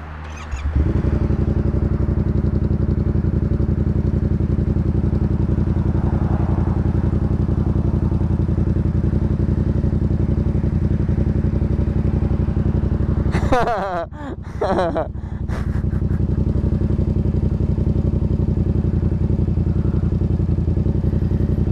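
A Yamaha MT-07 motorcycle engine runs steadily and loudly in first gear, close to the microphone, with a short clattering disturbance partway through and a brief dip in level.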